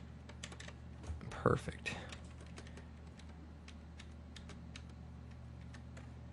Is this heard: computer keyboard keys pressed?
yes